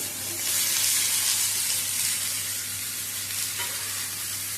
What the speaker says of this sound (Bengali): ঝিঙেটা দিয়ে ভালো করে নেড়ে ছেড়ে নেব ঝিঙে দিয়ে ভালো করে একটু কষিয়ে নেওয়ার পরে